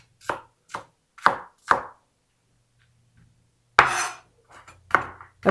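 A knife chops onions on a cutting board for a potato dill soup, with four sharp separate knocks, a pause, then a louder burst of quicker chopping, close and alone with no talk.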